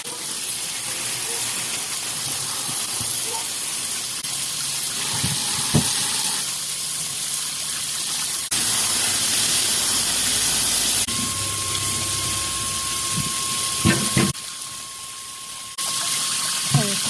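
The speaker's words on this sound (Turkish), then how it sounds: "Yıkayalım bakalım şeftalilerimizi." Tap water runs in a steady hiss while five kilos of peaches are rinsed in a kitchen for jam, with occasional soft clunks and splashes and a brief change in the flow partway through.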